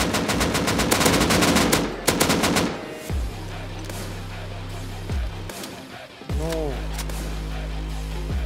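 Rapid bursts of automatic gunfire in a video game, loud close volleys at first, then single heavy shots with ringing tails, while players talk.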